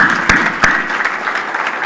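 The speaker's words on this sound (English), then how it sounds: "Kindly give a big round of applause for these teachers." An audience at the inaugural session of a documentary film festival claps in a brief, dense burst of applause, with a few sharper individual claps and faint talk underneath.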